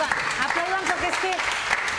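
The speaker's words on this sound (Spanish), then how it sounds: "Aplaudan, por favor, aplaudan." Television studio audience applauding, a dense, continuous wash of clapping with voices carrying over it.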